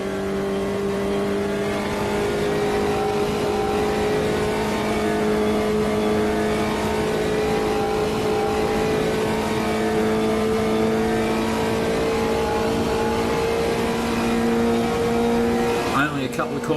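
Puma GTE race car in a racing video game, driven with full damage on: a loud, steady engine drone holding high revs for a long stretch, ending in a brief burst of tire noise and a shift.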